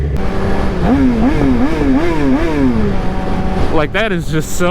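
Suzuki GSX-R 750 motorcycle engine revving repeatedly in loud, wavering bursts that rise and fall several times, then climbs sharply again near the end, with someone talking over it.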